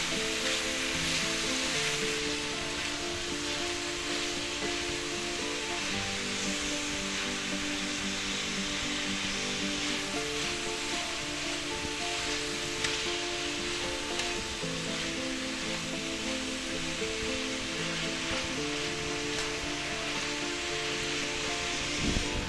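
Pork stir fry sizzles steadily in a hot pan as halved and quartered baby carrots are added, a loud continuous frying hiss with faint stirring and no talk.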